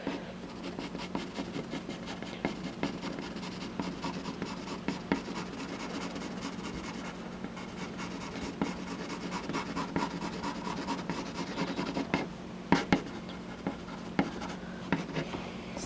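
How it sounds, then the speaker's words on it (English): Pencil on paper drawing short eyebrow hairs, a quiet series of quick, light scratchy strokes with brief lifts between them, faint and close. "Now I'll go back and fill it in with hairs."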